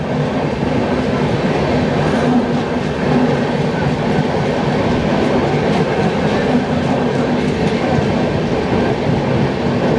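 Guwahati–Howrah Saraighat Express, an Indian Railways passenger train, pulling out of Rampurhat Junction, heard from on board as a loud, continuous rumble of wheels and carriages with a steady rattling roar throughout.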